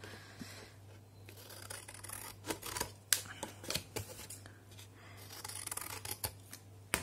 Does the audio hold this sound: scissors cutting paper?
yes